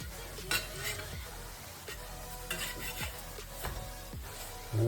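Roti fries softly in a pan and is turned over and over, with quiet sizzling under repeated light scraping and tapping of a utensil against the pan.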